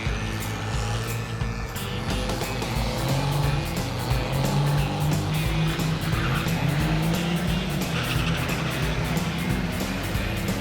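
A diesel-swapped Torino wagon drag races with a loud, sustained engine roar, tire squeal and skidding noise throughout.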